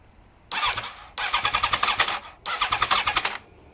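A carbureted Honda CBR1000 Hurricane four-cylinder engine cranks in three bursts, each spinning with rapid rhythmic chuffs and popping back through the carburetors without catching, fairly close and alone.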